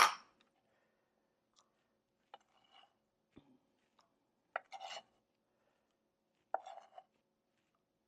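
Tomatoes being chopped for crockpot chili produce a few sparse, separate knife strikes on a cutting board, spaced irregularly with quiet gaps between them.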